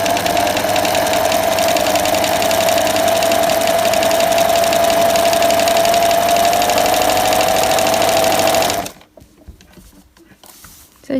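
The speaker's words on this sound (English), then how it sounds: "This is going to be noisy, I apologize, but that's my sewing machine" An old sewing machine running zigzag stitches whirs loudly and close with a steady mechanical drone and rapid rhythmic knocking for about nine seconds, then stops abruptly, leaving near silence.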